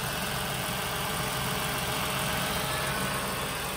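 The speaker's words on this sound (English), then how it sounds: "Nice running engine." A 2013 Ford Taurus, repaired after an accident, idles with a steady, even engine hum and a faint mechanical rattle, heard close and alone with no talking.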